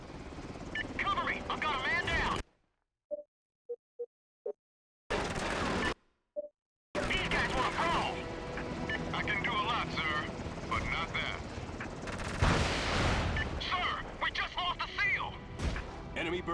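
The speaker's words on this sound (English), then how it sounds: "there's an enemy helicopter closing in on your location" Enemy helicopter rotor drone and bursts of gunfire in the SOCOM: Combined Assault video game, loud and dense, broken by brief silent gaps, with crashes and radio-style voices talking over the action.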